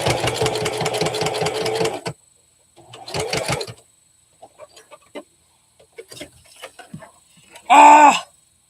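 Home sewing machine stitching in quick rattling bursts while a quilted mouse project is sewn, loudest in a two-second run at the start, followed by shorter stitching bursts, scattered small clicks and handling noises, and a brief tonal whirr near the end.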